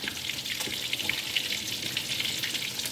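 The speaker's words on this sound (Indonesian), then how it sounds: "sekarang sup rebungnya sudah mendidih tapi belum matang" Taiwanese-style bamboo shoot soup boiling in a pot, a steady loud bubbling and hissing simmer close up, with no talking.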